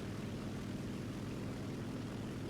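A Ki-43-II fighter's propeller engine drones steadily as the plane climbs in the War Thunder video game, a constant dense rumble with no breaks.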